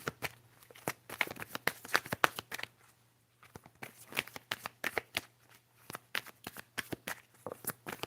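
Tarot cards are shuffled by hand in quick, crisp riffles and snaps, with a short pause partway through, close and fairly faint.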